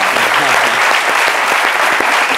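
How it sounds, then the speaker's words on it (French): A studio audience claps in a dense, sustained burst of applause, loud and close, with sharp individual hand claps standing out through the wash. "je pense qu'on peut vraiment applaudir Andrea Etienne"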